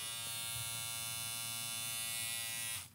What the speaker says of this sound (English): we do have the on and off switch on this side of the shaver